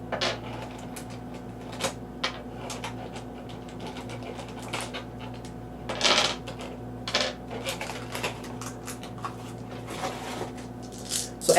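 Small plastic Dungeons & Dragons Dice Masters dice from the Faerun Under Siege starter set clicking and rattling as they are handled, a scatter of light irregular taps and clacks over quiet background hum.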